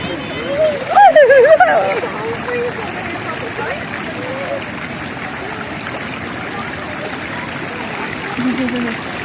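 A cold mountain stream in Kashmir rushes and splashes steadily while a voice briefly cries out near the start.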